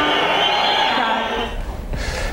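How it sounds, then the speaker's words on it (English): A dissatisfied crowd at an Olympic ladies' figure skating event in Albertville reacts to low marks, a loud sustained murmur and whistling that dips briefly before swelling again. "This time the crowd is apparently dissatisfied with everybody."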